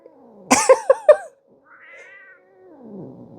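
A house cat in a sweater voices displeasure, giving three or four sharp close meows and growly yowls in quick succession, then a softer drawn-out cry and a low grumbling growl trailing off.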